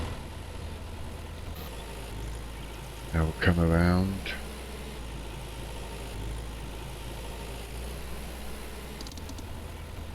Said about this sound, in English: Jump back in this tractor.